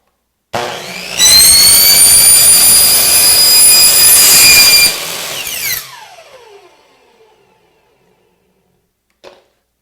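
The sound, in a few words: power tool cutting corrugated plastic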